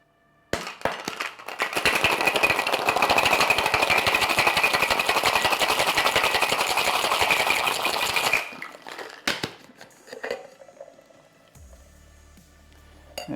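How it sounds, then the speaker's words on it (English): Cocktail shaker packed with ice being shaken hard while mixing a Bee's Knees, a loud, dense rattling that runs steadily for about seven seconds, then stops, followed by a few scattered clinks and handling knocks. "we're going to give it a short, sharp shake to mix and dilute this cocktail"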